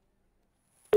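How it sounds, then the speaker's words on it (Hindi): A telephone busy tone after a call is disconnected, starting abruptly near the end of a second of silence with a loud steady beep. "उन्होंने फोन डिस्कनेक्ट कर दिया है।"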